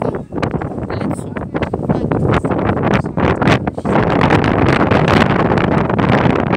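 Strong street wind buffets the microphone in loud, continuous rumbling gusts with heavy roaring surges throughout, no voices heard.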